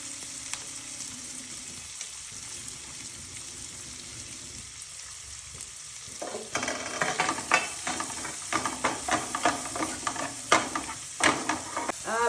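Chopped onion and ginger sauté in a hot pan with a pinch of asafoetida while being browned for vegetable soup. A soft, steady sizzle gives way to louder, rhythmic scraping and stirring strokes in the second half.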